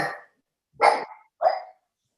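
A dog barks three times with short gaps, fairly close and clear, heard in the background during an online township council meeting.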